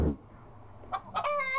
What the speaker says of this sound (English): How about you help me get this chicken out?